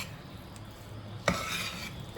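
A Kerala-style kadachakka breadfruit roast is stirred in a pan, soft scraping and shuffling at close range with one sharp metallic clink of a utensil against the pan partway through.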